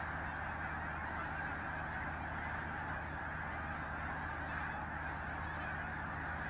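A huge flock of geese circling in the sky over a hunting field, a constant, dense chorus of distant overlapping honks blending into a steady roar.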